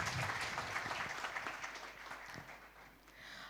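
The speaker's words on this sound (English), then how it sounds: "Can we have a big round of applause?" An audience at a healthcare awards ceremony claps, a dense patter of hands that starts fairly full and thins out toward the end, moderately distant.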